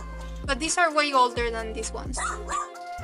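A pet dog barks and yips in short bursts close by, interleaved with a person talking indoors.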